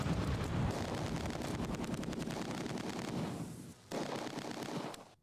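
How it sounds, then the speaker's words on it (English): An MG42 machine gun firing in the wartime strategy game Close Combat 2, a dense rattling stream of rapid bursts with rumbling battle noise, loud and continuous, briefly dropping away before resuming. "Sounds like an MG42's in action"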